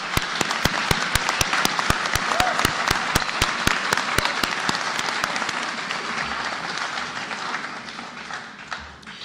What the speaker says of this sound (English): If we could all give Mr. McQueen a round of applause.